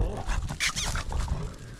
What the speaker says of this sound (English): you see the dog here, Bruce?